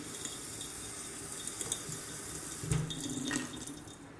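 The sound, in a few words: kitchen sink faucet pouring low-pressure stream of water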